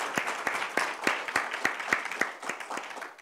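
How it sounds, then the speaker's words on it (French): A conference audience claps after a talk on training innovation, a steady burst of many hands applauding in a hall, fairly close and fading slightly toward the end. "On peut les applaudir."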